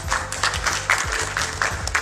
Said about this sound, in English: Please everybody give a loud applause and welcome them.